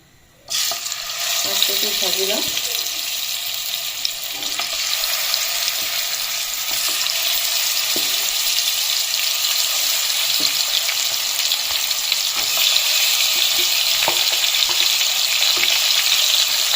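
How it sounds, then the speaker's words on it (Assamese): Pieces of boroli fish fry in hot oil in a kadai, giving a loud, steady crackling sizzle that runs the whole time with light stirring and scraping and no talk. "তেল গৰম হৈ গেল মই ইটা মাছ কেইপিস ভাজি লম"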